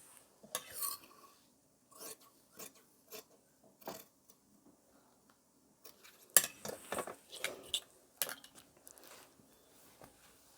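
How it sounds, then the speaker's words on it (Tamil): Shirt sleeve fabric cut with scissors for a large 48-size shirt, heard as short, crisp snips and rasping slices in separate bursts, sparse at first, then a denser run of close cuts, without voices. "இந்த கையோட ஓப்பன் கட் பண்ணிக்கலாம்"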